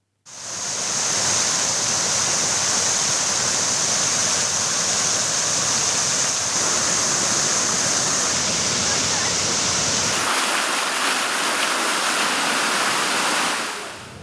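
Water pouring steadily from a city fountain, a loud continuous rushing wash that fills the scene from start to finish before briefly thinning near the end.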